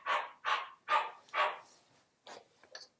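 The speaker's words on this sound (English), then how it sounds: "I don't know why they're barking so much." Dogs barking at home, four loud, evenly spaced barks close by, followed by two softer, shorter yips trailing off, with no talking over them.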